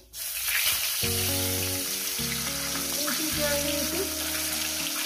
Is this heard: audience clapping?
no